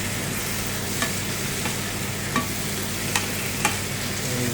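Bitter gourd (ampalaya) fries in a pan with a steady close sizzle, and a utensil stirring it knocks and scrapes against the pan every second or so, with no talking.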